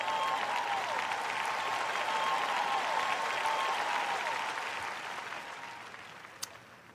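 Steady applause from a church audience, a dense sustained wash of clapping that holds for several seconds and then gradually tapers off.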